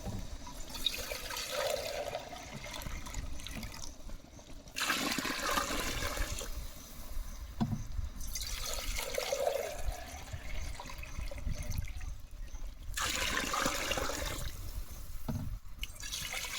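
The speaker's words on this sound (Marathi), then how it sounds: "पाणी टाकतोय आता." Water poured into a pot of khichdi cooking in oil in a farm field, a steady splashing pour broken by brief pauses, close and moderately loud.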